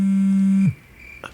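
A cellphone vibrating with an incoming call gives a loud, steady low buzz that stops abruptly after about two-thirds of a second, followed by quiet room sound and a faint brief tap.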